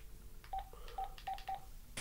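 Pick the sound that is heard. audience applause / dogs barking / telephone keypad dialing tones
telephone keypad dialing tones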